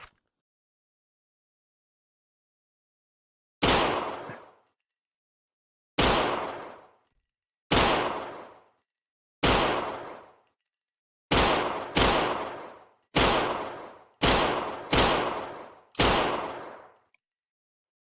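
Single M9 pistol shots ring out in a VR shooting game, loud and sharp with quick decaying tails: a few spaced blasts at first, then a faster run of rounds, with silence between and no talking.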